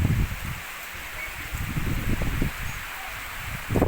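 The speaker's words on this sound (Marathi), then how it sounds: "आणि असा पाऊस सुरू आहे बघा खूप पण जास्त नाही आणि खूप पण कमी नाही" Moderate rain falling on a soybean field, heard as a steady outdoor patter and rustle of wet leaves with intermittent gusty swells.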